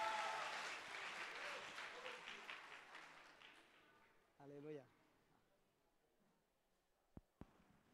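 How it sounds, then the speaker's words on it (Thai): Dense clapping from a crowd fades steadily over several seconds, followed by a brief voice and then a couple of sharp knocks in near silence. "ขอเสียงปรบมือต้อนรับ"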